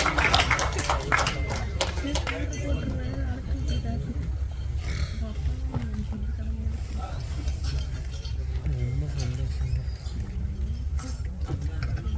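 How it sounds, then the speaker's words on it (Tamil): An audience at a movie audio and trailer launch applauds to welcome director Sainu Chavakkadan onto the stage, with dense, steady clapping running throughout and voices talking over it. "ஒரு சத்தமான கைத்தட்டல் கொடுத்து வெல்கம் பண்ணிடலாமா"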